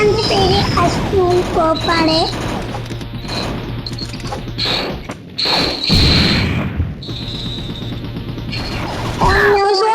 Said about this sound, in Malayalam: നമുക്ക് ബോംബ് ഇടാം ഗൈസ്.